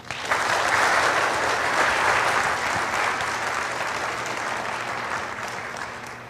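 Steady, dense applause from a large audience at a religious-toned gathering fills the whole stretch, loud and sustained with no talking over it, tapering only slightly toward the end.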